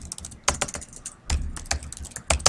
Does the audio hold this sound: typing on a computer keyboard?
yes